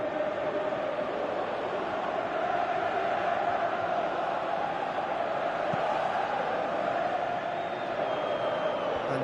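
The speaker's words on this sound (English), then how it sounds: "you can feel and hear how the crowd are reacting to all of this" Football stadium crowd in a football video game, a constant dense roar of massed spectators holding at an even level throughout, with no distinct cheers standing out.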